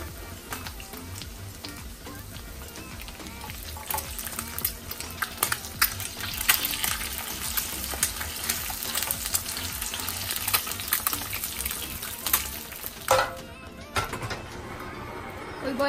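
Eggs fry slowly in lard over low heat as part of a Honduran breakfast, giving a soft continuous sizzle with occasional utensil scrapes and clatter, and a brief noise burst near the end.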